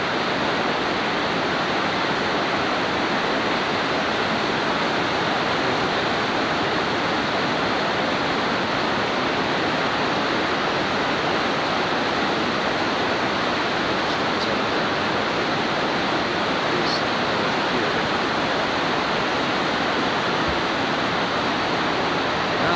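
Water rushes down over rocks at the Takiaki waterfall, a loud, unbroken roar of spray and churning flow filling the whole stretch, steady and close, with no voices.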